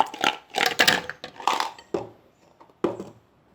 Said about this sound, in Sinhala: අයිස් කැටි